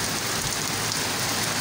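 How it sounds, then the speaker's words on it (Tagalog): Heavy rain pours in a village, a dense, even hiss of falling drops, steady and loud, with no other sound over it. "Ang lakas-lakas ng ulan."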